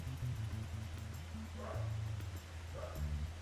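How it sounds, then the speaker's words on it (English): A dog barks and yips in Final Fantasy XIV in several short, moderately loud bursts over a low droning background score. "Never mind, I do hear a dog."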